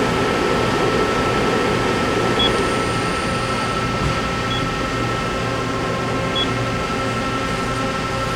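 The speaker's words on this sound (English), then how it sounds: "Main spindle 2500 RPM." Mori Seiki NL-2500SY CNC turning center, new 2010, with its main spindle running at 2500 RPM: a steady machine hum with tonal whine holding at an even level throughout, close by and alone without talk.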